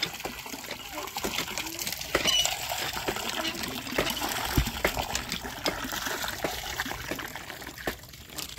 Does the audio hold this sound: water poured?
yes